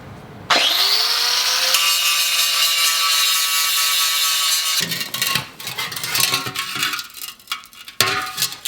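A power grinder whines up to a steady high-pitched scream against a metal Honda CB500F motorcycle fender, then cuts out and restarts in rough, uneven bursts of grinding.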